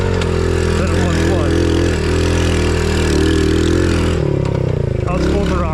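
Cheap Temu dirt bike engine revved at full throttle on a trail, a loud, close buzzing drone that holds steady, then dips and surges near the end as the throttle shifts.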